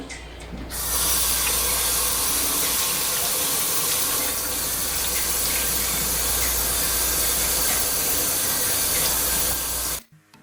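Steady running tap water sprays and splashes continuously for about nine seconds while rinsing mulberries, then cuts off abruptly.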